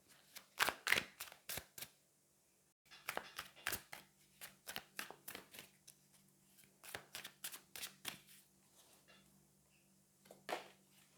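Oracle cards shuffled by hand in a quiet room, a run of crisp riffling flicks in short bursts with brief pauses between them, close and clear with no talking.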